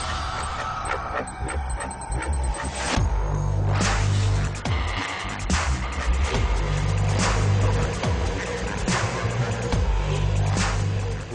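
A Volvo XC60 creeps downhill under hill descent control at about 10 km/h, with a steady low rumble from the tires and drivetrain and occasional thumps and rattles from the cabin and suspension.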